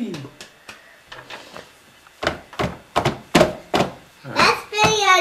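A baby slaps both hands on a high chair tray, making a run of sharp, hollow thunks that start soft and grow louder and quicker, with babbling and squeals between the bangs.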